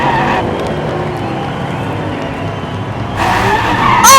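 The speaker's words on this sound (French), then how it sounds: "Oh, ça drift très fort en sortie de virage." Diecast toy race cars drift and skid around a miniature racetrack, making a close, continuous rolling and scraping rumble with a sharper squealing swell toward the end.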